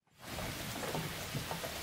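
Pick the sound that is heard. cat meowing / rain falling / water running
rain falling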